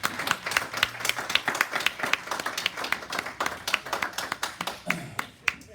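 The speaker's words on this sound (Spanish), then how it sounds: "denle un aplauso al Señor." A church congregation claps together in praise, a brisk, dense run of hand claps close by that tapers off near the end.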